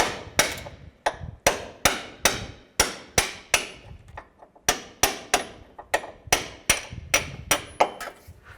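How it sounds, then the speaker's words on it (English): A hammer taps a punch to drive out a lower control arm bolt on a 2003-2007 Cadillac CTS, giving a steady series of about twenty sharp metallic strikes in a fairly even rhythm, close and clear. "And this back one, I'll just use a punch."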